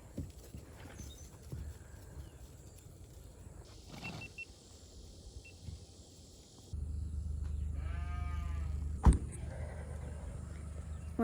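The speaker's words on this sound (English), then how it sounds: "The goats were sleeping here with us." Goats move about outdoors on a foggy morning, their hooves giving faint, scattered clip-clop steps against quiet surroundings, with a low steady hum joining later.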